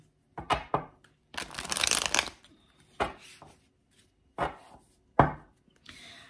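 Tarot cards are shuffled by hand in a series of short riffling bursts with quiet gaps between them, one longer riffle in the middle, close and fairly soft, with no talk.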